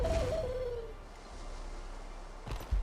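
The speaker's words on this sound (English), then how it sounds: "my plushie Springer, instead of being a rabbit, is a bird, but they make really fun noises" Bird-like plushie Springer mount in Guild Wars 2 giving a soft hooting, owl-like call with a gliding pitch, followed by quiet ambience and a faint thump.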